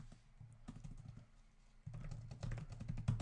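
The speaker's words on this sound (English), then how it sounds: "I love inventing new keyboard shortcuts as I go along." Someone types on a computer keyboard while configuring OSPF routers, with quick, uneven runs of close, crisp key clicks that pick up pace and grow louder toward the end.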